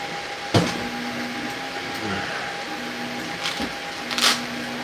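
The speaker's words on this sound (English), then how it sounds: "next it's going to wipe the nozzle, and then it's going to start doing its probe test" A 3D printer wipes its nozzle and begins its probe test, a steady motor whine with a few sharp clicks and taps, fairly quiet, under faint voice.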